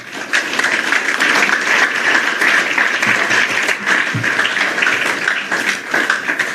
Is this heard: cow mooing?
no